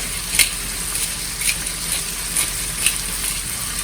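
Mushrooms seasoned with salt and pepper fry in a pan with a steady, close sizzle and a few brief crackles and stirring sounds, and no one talks.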